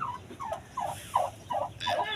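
Six rhythmic gobbles from a domestic turkey hen on a rooftop, evenly spaced and close, with a brief rustle near the end and no voices.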